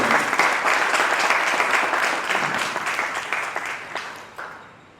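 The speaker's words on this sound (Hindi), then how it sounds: "हाथों को हिलाना और तालियां बजानी है।" An audience at a school education department yoga event claps in a dense, sustained round of applause that gradually thins and fades out at the end.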